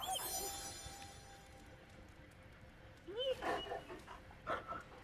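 A pet dog named Charlie whimpers and yips in short bursts, close by and fairly soft, as a person's voice fades in and out around the sounds.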